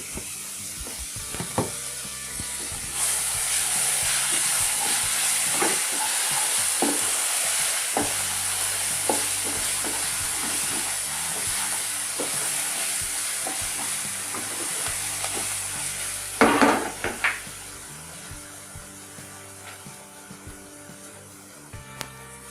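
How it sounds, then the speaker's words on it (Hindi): Ginger garlic paste frying in a pan for green chili salan, a steady loud sizzle with repeated scraping of a spoon as it is stirred, with no talking. "और अब हम इसमें डाल देंगे अदरक लहसुन का पेस्ट 1 खाने का चम्मच"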